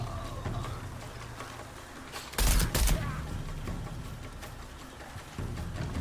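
Gunfire in Shadow of the Tomb Raider, a couple of loud bursts in the middle over a murmuring game backdrop, with faint scattered shots before and after.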